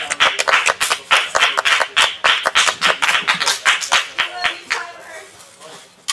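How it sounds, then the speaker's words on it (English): A crowd applauds with a burst of steady, dense clapping that gradually thins and fades toward the end. "Everyone give a round of applause to Tyler Mann."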